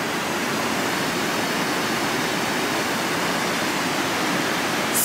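Steady, dense roar of a waterfall near Biei, Hokkaido, on a snowy winter night at minus 4 degrees, loud and unbroken throughout, a broad rushing hiss with no voices.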